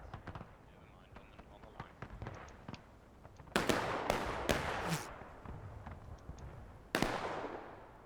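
Scattered musket gunfire in The Blue and The Grey: several sharp cracks near and far, clustered in a quick volley and a later single shot, over background battle noise and talk.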